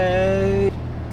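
Car with a newly installed aftermarket exhaust, its engine droning in a loud steady tone close by before cutting off abruptly to a quieter background hum.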